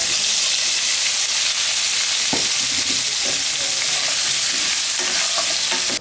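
Boiled potato and elephant foot yam pieces tossed into hot oil tempered with bay leaf and whole cumin, a loud continuous sizzle and hiss with occasional stirring scrapes throughout.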